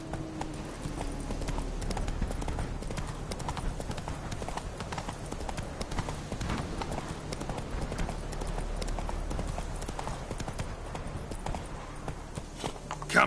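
Roach, the horse in The Witcher 3 Wild Hunt, walking with steady rhythmic clip-clop hoofbeats on the ground, moderately close, over a soft game ambience with no talking.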